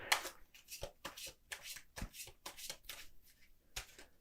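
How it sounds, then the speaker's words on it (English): A deck of tarot cards being shuffled by hand up close, with repeated crisp riffles and soft card slaps in irregular bursts, with no talking. "So we'll shuffle a little bit more, and then we'll just start drawing from the top for the rest of the cards."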